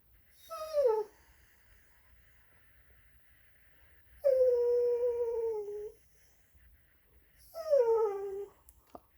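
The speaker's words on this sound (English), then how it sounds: "I hate that dog so much." A dog whimpers in three separate drawn-out, high-pitched whines, each wavering and falling in pitch, close to the microphone with quiet pauses between them.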